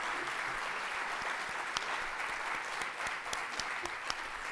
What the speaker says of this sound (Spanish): Despidamos al contador Mario Laborín con un aplauso